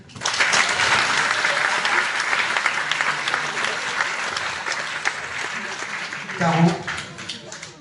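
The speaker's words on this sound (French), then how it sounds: "Franchement, on peut l'applaudir." Hearty applause fills the room at an evening label awards event, a dense and sustained roar of clapping, with a voice rising briefly near the end.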